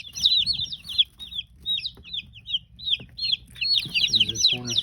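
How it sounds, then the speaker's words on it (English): Cornish cross meat chickens, newly arrived, peep and cluck in a busy chorus of high chirps, with lower clucks near the end and faint background murmur. "These are Cornish cross chickens."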